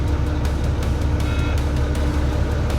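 A Volvo VNL truck engine held at high RPM, a loud, steady, close diesel roar with a continuous low rumble and no talking.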